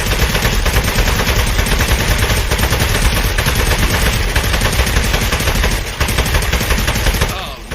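Dense, continuous rapid gunfire in the Aperture Desk Job video game as a clay enemy is shot, loud and sustained for several seconds before cutting off abruptly at the end.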